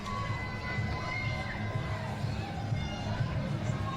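A pride parade crowd yells and cheers continuously, a dense wash of excited voices and shouts close by with steady background chatter throughout.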